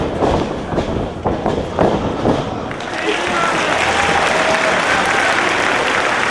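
Wrestling crowd at an anniversary show breaks into sustained, dense applause that swells and holds steady, loud and close, with some cheering mixed in.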